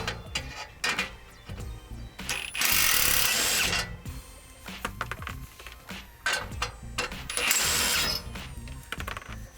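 A ratchet works loose the exhaust flange on a Ford Expedition, with bursts of rapid clicking and metallic tool clatter broken by short pauses, close and fairly loud.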